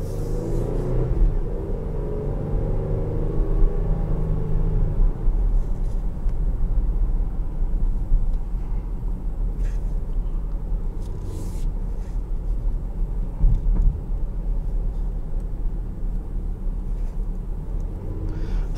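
A 2021 Dodge Durango GT Blacktop Edition driven in sport mode on a lap gives a steady, loud engine drone with deep road rumble, holding a constant throttle throughout with no voices.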